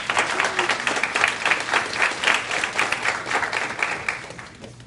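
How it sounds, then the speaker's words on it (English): An audience at a school district board meeting breaks into applause, many hands clapping in a dense, rippling burst that swells and fades over about five seconds. "Let's give another round of applause."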